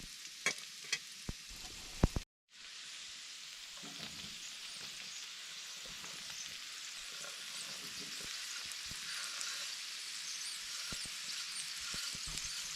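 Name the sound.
potatoes frying in a covered pan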